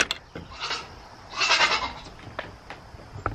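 Goats in their pen bleat several times, close and fairly loud, with one long bleat in the middle and shorter calls around it, over faint rustling.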